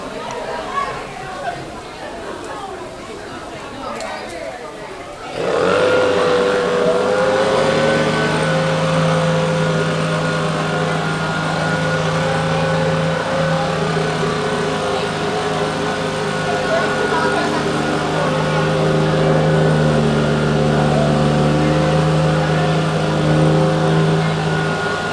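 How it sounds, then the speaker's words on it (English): A leaf blower inflates the plastic sheeting of a homemade hovercraft at a science fair, switching on partway through into a loud, steady droning whine that holds to the end over background crowd chatter. "It fills with air from the leaf blower."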